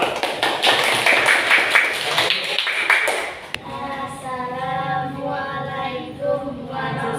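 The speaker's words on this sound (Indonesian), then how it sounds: "Oke, beri tepuk tangan untuk kelompok 2." Classroom applause for a student group in a fourth-grade class, quick tapping claps over the first half before voices and a tonal sound take over.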